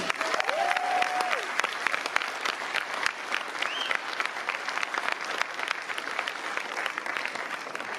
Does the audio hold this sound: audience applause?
yes